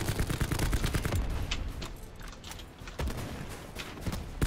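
A shooter video game is full of rapid gunfire and grenade blasts, with dense overlapping bursts of shots and sharp cracks that stay loud and busy throughout, without any clear pauses.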